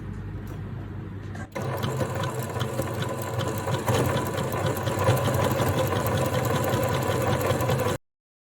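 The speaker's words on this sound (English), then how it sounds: "So we will sew and cover the raw edges." A sewing machine stitching over the raw edges of fabric runs in a steady, close mechanical whir with rapid needle ticking, starting after a quieter moment and cutting off abruptly at the end.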